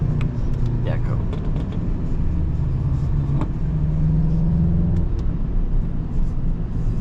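A Mk8 Golf on its stock exhaust at a track day idles and burbles nearby in a steady low rumble, with brief faint clicks above it.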